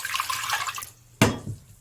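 A full cup of water pours into a cooking pot on a stovetop, a bright splashing gush with a sharp onset after a softer running-water stretch, close and clear, no voices.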